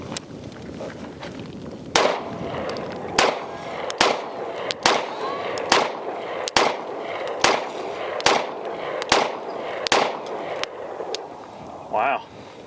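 A Nighthawk TRS Comp pistol fires about a dozen sharp, loud gunshots at a steady, unhurried pace, each crack ringing out over faint outdoor background noise.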